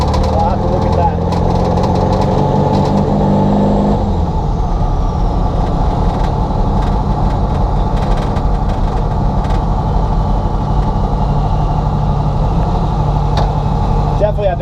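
A turbocharged 1967 VW Bug drives along, its engine droning steadily from inside the car, a gear shift audible early on before the engine pulls on again, loud and continuous.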